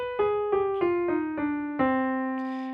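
Six clear, evenly spaced notes of a descending musical scale ring out alone on a pitched instrument, each struck cleanly and sustaining, the last resolving onto C and left to ring.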